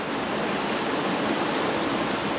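A river in Idaho rushes past in a dense, constant broadband roar, loud and close, with no breaks or other sounds.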